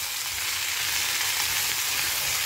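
Potatoes, onions and capsicum with salt and turmeric sautéing in a stone pot, a steady close hissing sizzle that holds evenly throughout with no talk.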